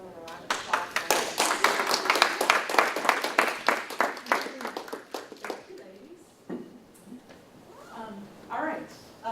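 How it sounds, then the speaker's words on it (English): Audience applause welcoming a lecturer, brisk clapping from a modest crowd for about six seconds that tapers off, followed by a voice speaking. "So we can have a warm welcome and a round of applause for her."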